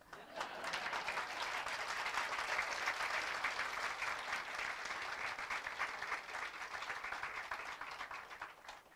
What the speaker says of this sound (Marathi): तरीही टाळ्या कमीच वाजल्या.